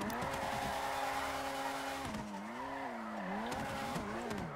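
A car drives in GTA FiveM, its engine droning steadily, then a tire squeal wavers up and down as the car slides, clear and fairly close with no talk.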